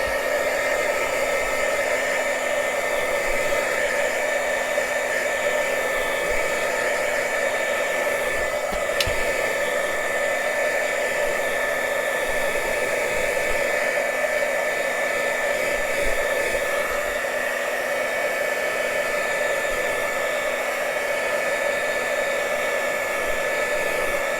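A heat tool blows steadily on a craft tag, a constant loud whooshing hiss like a hair dryer running for the whole stretch with no breaks and no talking.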